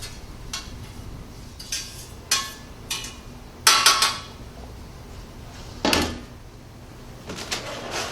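Burned asphalt material left over from an ignition-oven binder test being handled in a metal bottom pan, with several sharp metallic scrapes and clanks spaced irregularly and heard close up with no talk.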